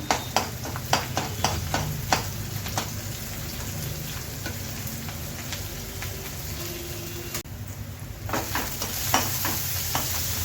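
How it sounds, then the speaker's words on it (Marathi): Chopped garlic sizzles steadily in a pan while a spoon scrapes and stirs it in repeated short strokes, a continuous close frying hiss with sharp clicks throughout. "मी लसूण घातलेले आहे. लसूण व्यवस्थित लालसर होऊ द्यायचा."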